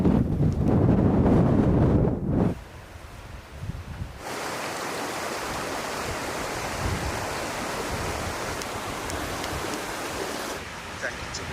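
A river flows beside the Pennine Way trail between Earby and Malham, a steady broadband rush of water heard in the open, with heavy wind buffeting the microphone in the first seconds.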